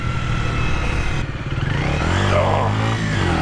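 A Honda Dream 50 race replica motorcycle engine held at full throttle, a steady loud close-up drone that rises slightly in pitch toward the end.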